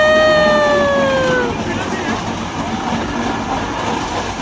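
A toy train ride in a city park in Kalyan gives a bright horn-like tone that slides downward for about a second and a half, then gives way to a steady rolling rumble.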